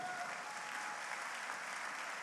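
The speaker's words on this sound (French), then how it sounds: "Il faut acclamer ça, s'il te plaît." Church congregation applauding, a dense, even wash of clapping from many hands that stays steady and fairly distant throughout, with no talking over it.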